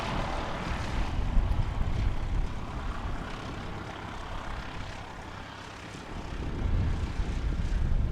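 An aircraft with bright orange livery passes at Christchurch Airport with a steady, broad engine roar that swells and eases slightly as it moves, heard fairly close and without talk.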